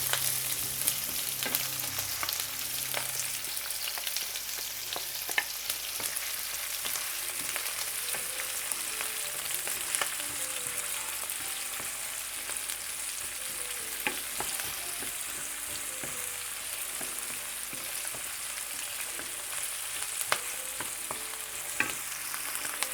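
Chopped onion fries in lightly heated olive oil in a pan, a steady, soft hiss of sizzling with faint scattered crackles and occasional stirring, close and unbroken for the whole stretch.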